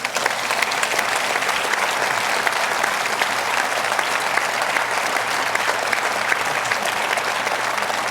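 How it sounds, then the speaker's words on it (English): An audience at a Senate candidate forum gives a dense, sustained round of applause that fills the whole stretch evenly, with no talking over it. "I think a round of applause is in order."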